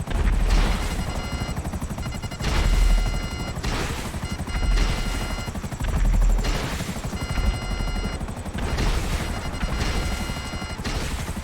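A helicopter in the video game GTA Online, its rotor chop loud and continuous with rhythmic swells every couple of seconds, mixed with bursts of gunfire and crashing game effects.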